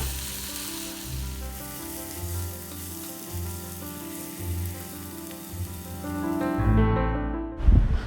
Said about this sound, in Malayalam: ഇത് നമുക്ക് കുറച്ച് ഉപ്പ് കൂടെ ചേർത്ത് നല്ലപോലെ വഴറ്റിയെടുക്കാം.